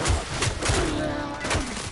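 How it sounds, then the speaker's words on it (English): Heavy weapon impacts in Warframe, several dull thumping hits at an irregular pace under a steady, dense wash of game noise. "That's around 4 shots."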